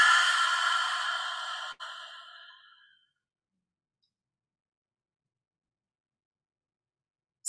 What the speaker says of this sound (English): Take a deep breath in, and a long, slow breath out.